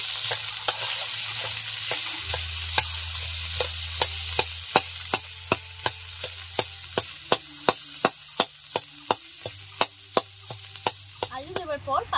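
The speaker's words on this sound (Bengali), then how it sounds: "আলু দেওয়ার পর 5 মিনিট মতো নেড়ে চেড়ে নিয়েছি।" Boiled potato pieces with salt and turmeric sizzle gently in a pan while a spatula scrapes and taps in a steady rhythm of sharp strokes, close and alone.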